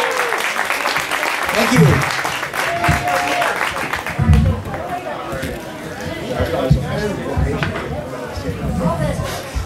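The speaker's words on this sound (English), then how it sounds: "give them a big round of applause, ladies and gentlemen" Audience applause for the West African djembe drum group Slap Happy at a musicians club meeting, spread through the room with chatter and talk mixed in.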